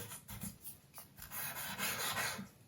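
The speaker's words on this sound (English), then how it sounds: "I'm going to just be rubbing this on each fret." A damp sponge rubbed along guitar frets while changing strings, a soft close scrubbing and rasping in short back-and-forth strokes, quiet and continuous with no talking.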